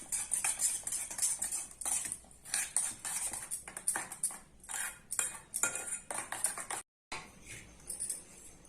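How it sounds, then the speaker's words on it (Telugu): A spoon whisks egg with chilli powder, salt and coriander powder in a bowl, a quick rhythmic clinking and tapping of metal against the dish, close and fairly quiet, with a brief pause near the end. "ఉప్పు, ధనియా పౌడర్ ఇవన్నీ వేసి ఇలా కలుపుకోవాలి."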